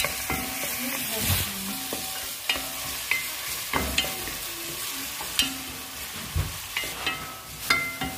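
Onions fry in hot oil in a pan with a loud continuous sizzle, and a spatula knocks and scrapes against the pan in intermittent strokes.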